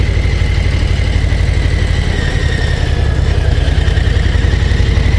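A Harley-Davidson Low Rider ST cruiser rides along a mountain road, its engine a loud, steady low rumble with a constant pulsing throb close to the microphone, with no speech.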